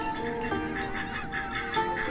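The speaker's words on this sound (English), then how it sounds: "I can hear birds though. We have geese over here." Geese honk in the city-building game Banished, a few calls over a steady, dense wash of outdoor game ambience.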